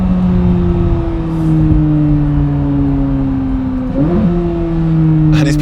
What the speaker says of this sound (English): I'm just doing a little review so people can hear the car and get a feel for it.